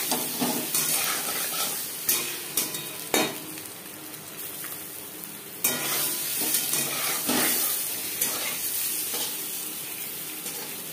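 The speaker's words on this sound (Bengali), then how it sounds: "লালচে করে ডিম ভাজা হয়ে গেছে" Eggs fry in a pan until reddish-brown for a potato and soybean curry, giving a steady close sizzle and hiss with repeated scraping stirs and clinks of a utensil against the pan.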